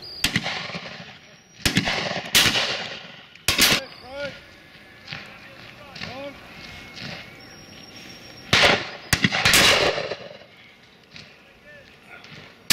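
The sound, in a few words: shotgun fire at a pheasant shoot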